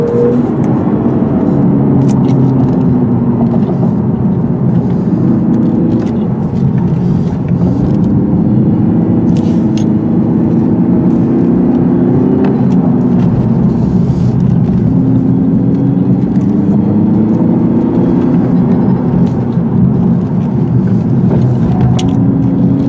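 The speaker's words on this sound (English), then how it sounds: "This 4-cylinder engine moves out pretty good once it spools up" A 2017 Lexus RC-200t's four-cylinder turbo engine pulls steadily for over twenty seconds on a hilly road, its loud, continuous drone rising and falling in pitch through repeated acceleration runs, with no talking over it.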